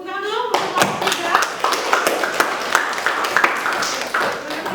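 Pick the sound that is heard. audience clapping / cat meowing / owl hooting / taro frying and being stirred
audience clapping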